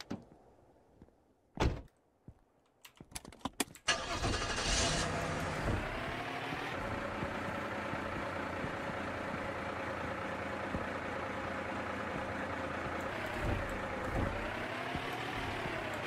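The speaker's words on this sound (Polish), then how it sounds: "Wjadę w niego autem, to się zniszczy i mnie umyje." Car engine in the Streamer Life Simulator video game, a few door thunks and clicks, then the engine starts and settles into a steady idle hum that continues to the end.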